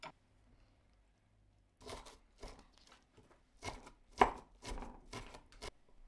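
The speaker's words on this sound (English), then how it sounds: "Mince 2 spring onions" A kitchen knife minces spring onions on a cutting board, a run of sharp, close chopping strokes in an uneven rhythm that starts after a quiet pause, with no talking.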